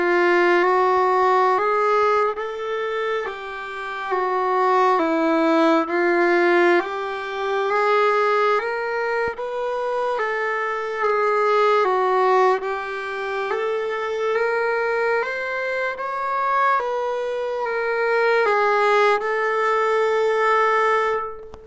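A bowed string instrument plays a single-string finger pattern that ladders upward in half steps with position shifts, sustained sliding notes climbing steadily over about twenty seconds, clear and close with no talk.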